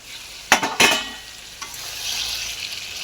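Mutton fries in a pan while being stirred: two sharp scraping stirs near the start, then a soft, steady high sizzle that builds gently, close and without talk.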